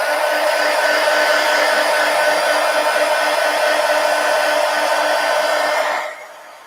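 A hair dryer blows steadily on a freshly colored adult coloring page, a loud, even whoosh with a faint whine that holds for about six seconds before cutting off abruptly.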